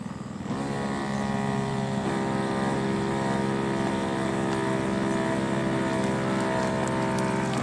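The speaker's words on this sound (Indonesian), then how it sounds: "Dan kita nyalakan lagi mesinnya." A small engine on a fertilizer and pesticide sprayer machine starts up and runs at a steady, loud drone with a constant even rhythm and no talk over it.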